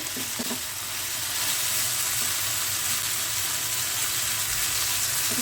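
Drumstick (moringa) pieces fry in white oil in a frying pan on a gas stove over high flame, making a continuous, even sizzle with a few light stirring knocks near the start.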